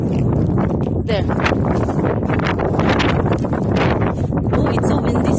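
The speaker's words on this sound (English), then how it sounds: "Oh, it's so windy still." Strong wind gusting while walking outdoors on snow and ice during a snowstorm, a loud constant roaring buffet across the microphone with rustling, a voice heard briefly within it.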